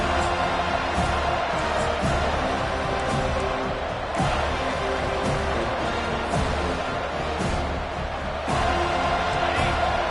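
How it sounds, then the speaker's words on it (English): A stadium crowd at a football game roars in a loud, continuous wall of cheering, with sharp thuds and swells rising and falling through it and a voice talking over the noise. "This crowd bringing an ear-splitting welcome to their visitors."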